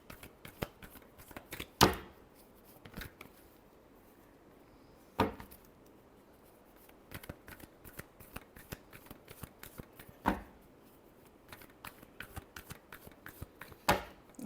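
Tarot cards are shuffled by hand in a quiet room: a quick, close run of soft riffling flicks and taps, broken by several sharper snaps where the deck is squared.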